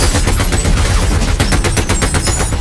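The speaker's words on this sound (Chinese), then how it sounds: "一辆汽车停在旁边后突然开枪" Dense rapid gunfire sprayed from a car in a film action scene, a loud continuous burst of overlapping shots filling the whole stretch without pause.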